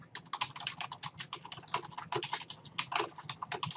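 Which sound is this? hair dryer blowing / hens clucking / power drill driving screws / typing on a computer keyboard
typing on a computer keyboard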